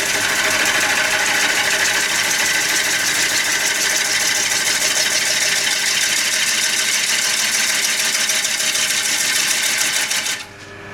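Wood lathe spinning a wooden platter while a skew gouge cuts the outside, a steady dense whirring buzz that runs continuously and drops off abruptly near the end.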